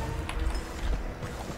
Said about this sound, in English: Stolen horse, so what? I gotta ride it.